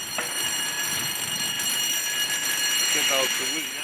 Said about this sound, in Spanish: suena la alarma del inmediato paso a nivel